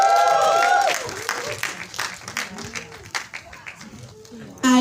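An audience at a press conference breaks into applause, a dense patter of clapping lasting a few seconds, with a speaker's amplified voice heard before and just after.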